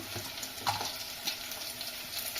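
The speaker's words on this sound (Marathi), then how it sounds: "लसूण चांगला तळून घ्यायचा" Garlic frying in oil makes a faint, steady, soft sizzle with a few small crackles, heard close and quiet with no voices.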